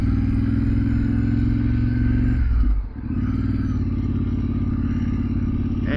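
Yamaha Ténéré 700 motorcycle engine running at a steady idle up close, with a brief dip in the rumble midway before it settles back to an even drone.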